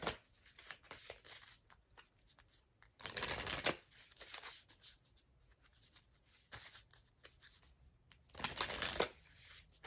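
Tarot cards shuffled by hand, steady papery riffling throughout, with two louder bursts of cards bridging or slapping together, close and with no talk.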